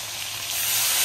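Fish frying in hot cooking oil, a bright continuous sizzle and hiss that swells slightly louder toward the end, close up and alone.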